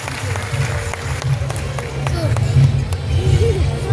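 Audience applause welcoming the Chief Minister at an Umiya Dham week gathering: a steady, dense wash of clapping and crowd noise that swells slightly toward the end, with voices murmuring underneath.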